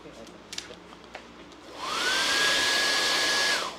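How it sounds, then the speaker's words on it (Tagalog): Quiet room tone with a few light knocks gives way to a hair dryer switching on and blowing with a loud, steady whoosh and a high whine, then cutting off. "try natin kung gumagana yung dryer"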